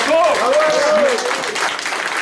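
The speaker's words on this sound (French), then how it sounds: "je pense qu'on peut les applaudir très fort" Audience applause at a live hypnosis stage show, steady dense clapping filling the room with a voice speaking over it at the start.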